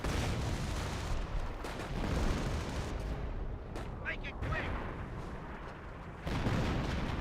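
V1 rocket in the World War II strategy game Company of Heroes, a heavy rumbling roar with booming blasts and crackling fire over the battle din, with someone talking at one point.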